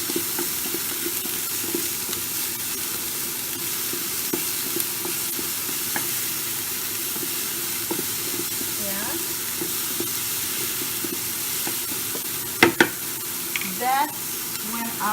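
Ingredients for prawn and clam spaghetti tossed and fried in a pan, a steady low sizzle with occasional soft stirring knocks and a couple of brief louder clatters near the end, close by.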